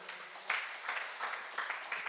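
A church congregation claps in quiet, scattered bursts, with a few louder patches of hands coming in and out over a couple of seconds.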